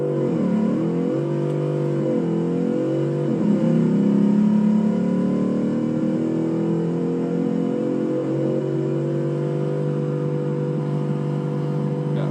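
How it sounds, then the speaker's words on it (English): A video-game Fungo van with a 3-speed automatic transmission revs and accelerates, its engine note sweeping up and dropping with each gear change before settling into a steady, loud drone. "This will be the last Fungo van config to have the 3-speed automatic transmission attached."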